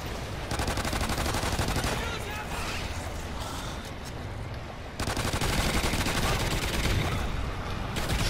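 Sustained rapid gunfire from a Death Machine minigun in the video game Call of Duty Extinction, a dense continuous rattle with a brief dip midway before resuming, while someone talks over it.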